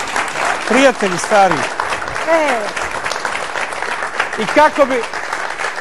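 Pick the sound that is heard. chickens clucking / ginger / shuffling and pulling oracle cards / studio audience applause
studio audience applause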